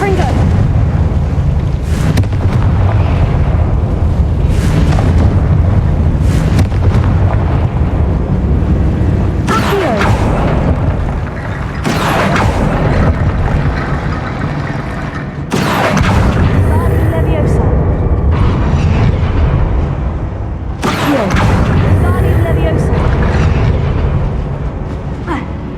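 Repeated fiery blast spells boom in the Hogwarts Legacy video game, loud explosive bursts every few seconds with rumbling decay between them, a speaking voice present over the action.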